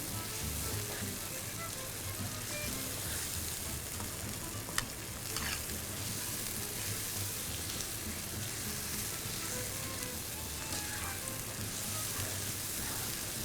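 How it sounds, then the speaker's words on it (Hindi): Qeema, minced meat, roasts in a pan with a continuous, even sizzle and soft stirring, with a single sharp knock partway through and no voices. "तो थोड़ा सा हम इसको भूनेंगे।"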